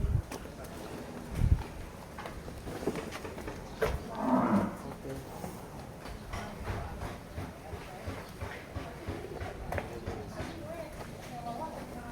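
A single Madura bull moos once, moderately loud, at a sacrificial cattle pen in Bogor, over a noisy outdoor background with scattered clatter and faint voices.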